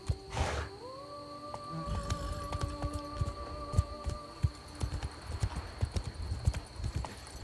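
Roach the horse galloping in The Witcher 3: Wild Hunt, Blood and Wine, with steady rhythmic hoofbeats on the ground, a short whinny near the start and a low hum of game ambience underneath.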